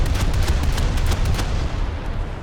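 Naval guns firing at an enemy cruiser in War Thunder, a dense run of heavy booms and cracking shots overlapping in quick succession, loud and continuous with no voices.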